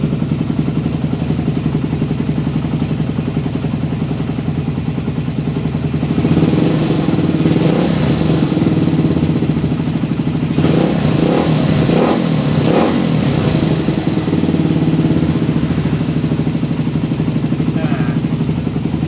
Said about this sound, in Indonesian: Bisa dilihat kan 10 menit dibiarkan idle, gas pertamanya normal, langsung enak.